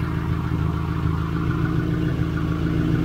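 A Subaru Impreza with a freshly installed 2.5L engine and new header exhaust work idles steadily just after start-up, a constant, close mid-pitched engine hum with an oil leak burning off, and no voices.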